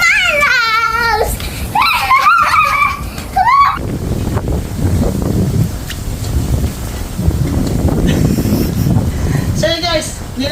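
Steady broadband wind roar buffets the microphone, with a voice and other speech heard over it near the start and end.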